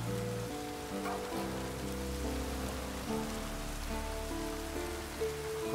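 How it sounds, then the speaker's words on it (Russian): Rain falls in the video game The Witcher 3, a steady patter on surfaces that runs through the whole clip under a soft, sustained musical background. "Похоже, дождь собирается."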